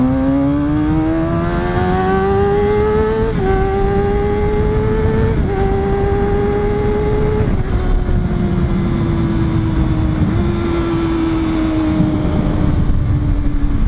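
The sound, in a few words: Kawasaki Ninja 636 motorcycle accelerating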